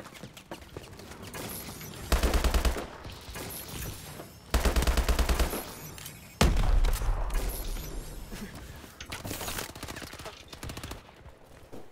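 Gunfire in Call of Duty: Advanced Warfare, several loud rapid automatic bursts of a couple of seconds each separated by quieter game action, close and punchy.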